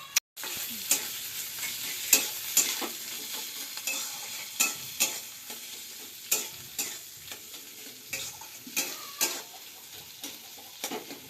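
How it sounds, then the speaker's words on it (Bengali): Potatoes fry in a pan over a soft sizzle while a utensil scrapes and stirs in repeated rhythmic strokes, each stroke a distinct close scraping knock. "আলুগুলো একটু ভাজা ভাজা হবে।"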